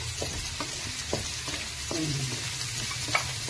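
Sliced green chilies fry in hot oil in a pan, a steady sizzle broken by light scrapes and taps of a spoon as they are stirred, close and clear with no talking.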